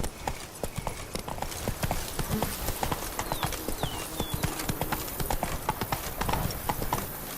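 Roach, the horse in The Witcher 3: Blood and Wine, gallops with a steady run of close, loud hoofbeat clip-clops, with a faint whinny partway through.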